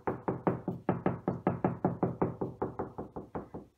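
Steady knocking on a wall over a wooden stud, about eighteen dull, evenly spaced raps in quick rhythm, close and fairly quiet with no voices.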